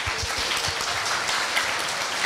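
A crowd at a middle-school speaking contest claps in a brief, steady burst of applause that fills the room at even loudness.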